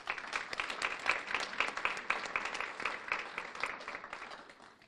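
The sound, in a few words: audience applause at awards ceremony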